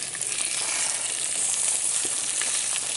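Egg frying in a pan for a grilled egg and cheese sandwich, with no salt or pepper, gives a steady, close hiss and sizzle of hot fat that carries on evenly with faint crackles and no voices.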